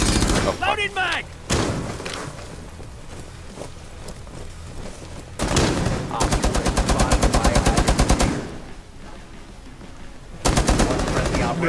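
Automatic gunfire from the video game Rainbow Six Siege comes in loud rapid bursts of sustained firing separated by quieter stretches, with an occasional single shot, and players talk over the action.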